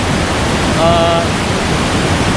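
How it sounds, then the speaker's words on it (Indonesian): Curug Gleweran waterfall in Bogor, Indonesia, pours as a loud, constant broadband rush with brief faint voices in the background. "di belakang saya ini adalah Curug Gleweran"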